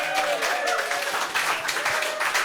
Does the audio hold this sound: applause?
yes